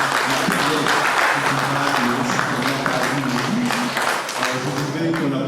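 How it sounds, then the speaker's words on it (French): An audience at a book launch on insurance in Congo claps in a full, sustained round for several seconds, with a few voices and background sounds mixed under the applause. "Je voudrais qu'on l'applaudisse"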